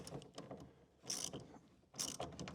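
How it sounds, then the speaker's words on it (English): A ratchet with a 6mm socket clicks in quick rhythmic runs while tightening a Jubilee clip onto a pipe fitting on a Ford Ranger Tremor, with two louder, sharper bursts between the steady clicking. "I'm going to use a 6mm socket"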